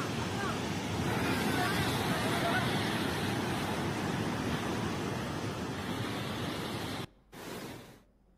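A monsoon-swollen waterfall in Chittoor district thunders with a loud, steady, hissing roar of rushing water that cuts off abruptly near the end.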